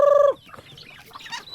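A chicken clucks in short, chattering bursts after a loud sustained tone cuts off, fairly close and without speech.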